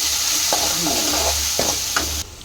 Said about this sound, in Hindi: अब इसमें डालूंगी मैंने ये एक प्याज काटा हुआ, इसको हम अच्छे से गोल्डन होने तक।